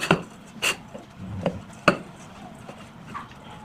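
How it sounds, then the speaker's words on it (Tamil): Slices of bread are broken by hand into small crumbs for a bread gulab jamun recipe. Soft crackling and tearing come close up in scattered bursts, with a few sharper clicks between them and no talk. "இப்போ இந்த ப்ரெட்டை நம்ம பொடி பொடியாக பண்ணிக்கலாம்"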